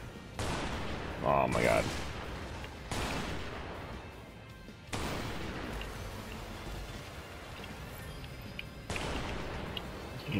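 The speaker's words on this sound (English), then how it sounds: "I'm going to get rid of my bullets just so I can reload." Weapon fire in the video game Strike Vector EX comes in several loud bursts with sharp onsets, each decaying into a rumbling tail, and a voice briefly exclaims near the start.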